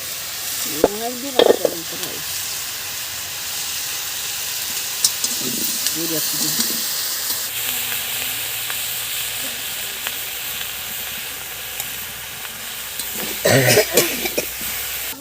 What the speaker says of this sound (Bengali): তেজপাতাটা দিয়ে ভেজে নিচ্ছি একটু।